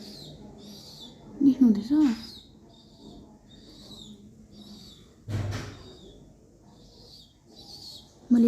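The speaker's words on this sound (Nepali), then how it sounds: "परेवाको बच्चा रुको रहेछ कि कस्तो बिचारा माया लाग्दो" A pigeon chick calls at a window in a few short, squeaky cooing bursts, near and fairly clear, with people talking quietly around it.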